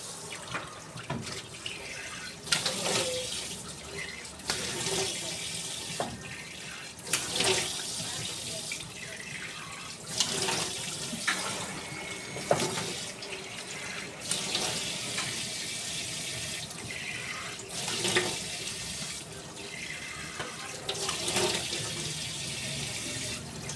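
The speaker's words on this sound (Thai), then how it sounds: "เดี๋ยวเรามา ล้างหน้ากันเลยครับ" A tap runs into a sink while someone washes their face, giving a steady water stream with repeated splashing surges, close and moderately loud, with no talk.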